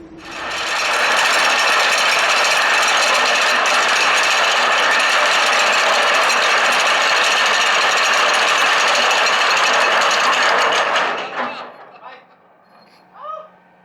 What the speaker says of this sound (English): Off Smeerenburg, we dropped anchor in a cloud of rust.